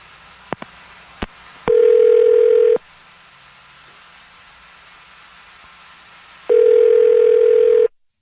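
A telephone dial tone while a call is being placed: a couple of short clicks, then a loud steady electronic tone for about a second, a quiet pause, and the same tone returning near the end.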